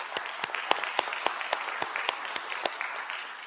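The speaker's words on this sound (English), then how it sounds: "So please give it a round of applause for the Georgia Cyber Center." A modest audience claps in appreciation of the Georgia Cyber Center at a cybersecurity conference event, the individual hand claps sharp and distinct in a steady scattered patter, with no talking over it.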